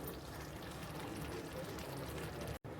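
Cooked raw banana curry being ladled into a bowl: a steady, close wet pouring and scraping wash with no voices, cutting out briefly near the end.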